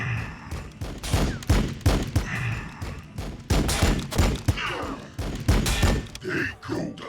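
Gunfire in Warhammer 40,000: Battlesector during a Blood Angels versus Necrons battle: repeated heavy, close shots and thudding impacts in uneven bursts throughout, loud and punchy.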